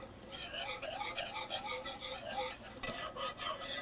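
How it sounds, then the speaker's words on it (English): A whisk beats a dessert mixture in a pan on medium heat, making rapid, regular scraping strokes close by, briefly paused before resuming. "Let me get a whisk out real quick. You mix this together"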